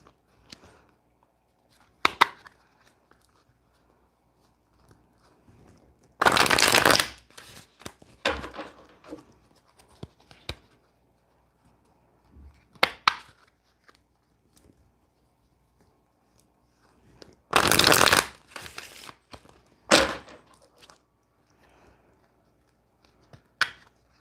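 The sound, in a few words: shuffling a Rider-Waite tarot card deck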